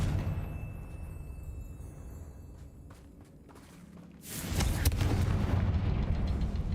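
A Confringo blasting spell going off in the video game Hogwarts Legacy, with a dull ambient rumble and a few scattered thuds before a loud burst of explosive roar that carries on to the end.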